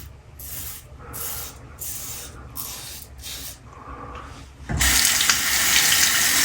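A razor blade rinsed under a running bathroom tap, preceded by rhythmic short shaving strokes, then a sudden steady loud spray of water that continues close to the mic with no talk.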